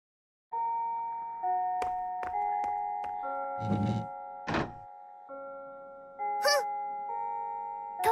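A school chime in a Japanese dating-sim video game rings out as a series of sustained, bell-like electronic tones that step between pitches, with a few soft knocks and clicks in between and no talking.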